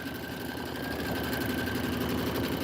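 A sewing machine stitching a metallic thread design, a steady fast mechanical whir with a constant drone and rapid needle rhythm, close and uninterrupted.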